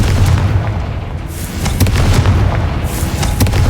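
Confringo fire-blast spell cast in the Hogwarts Legacy video game, a loud booming explosion with sustained rumble and a few sharp crackling bursts, no talking.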